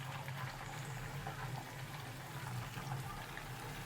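Long-sliced onions fry in hot oil toward a light golden colour, giving a steady, close, even sizzle that holds throughout with no voices.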